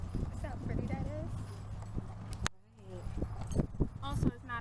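Mule hooves clip-clopping on a hard surface near the ocean, a loose rhythmic clatter with faint jangling, heard under people talking nearby.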